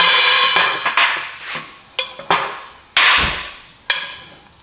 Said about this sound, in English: Hit it right here, this spot.